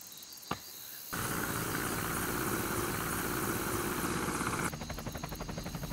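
Helicopter flying overhead during a special-forces military operation, a steady loud rotor and engine roar rising abruptly and holding throughout, with a sharper pulsing texture near the end.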